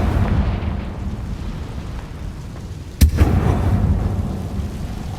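A Confringo spell fired in Hogwarts Legacy on PS4 Pro bursts as one sharp, loud blast a little past halfway, rising out of a dull, steady rumble of game ambience.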